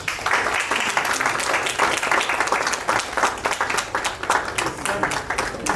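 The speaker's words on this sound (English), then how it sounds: "give big applause" Dense, sustained applause fills a hall at a preventive vigilance workshop, many hands clapping together in a loud, continuous wash with faint crowd murmur beneath.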